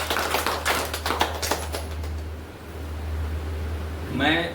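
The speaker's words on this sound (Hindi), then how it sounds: "तो जोरदार ताली बजाइए।" An audience at a business planning meeting claps, a short burst of scattered, loud hand claps that fades into room noise before a voice comes in.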